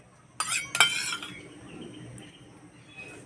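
A spoon stirs semolina and sour curd in a bowl, with two sharp metal clinks against the bowl early on, followed by quieter scraping and stirring.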